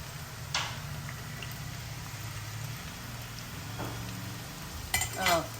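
Brinjal pakodi fry in oil with a low, steady bubbling sizzle, joined by a few clinks and scraping stirs, the busiest burst coming near the end; fairly quiet throughout.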